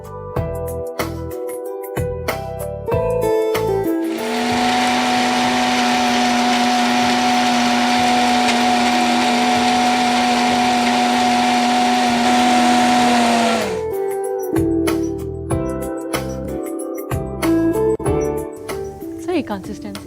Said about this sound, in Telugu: ఫస్ట్ కొంచెం మిక్సీ పట్టుకొని కన్సిస్టెన్సీ చూద్దాం.